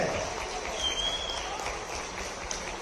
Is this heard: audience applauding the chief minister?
yes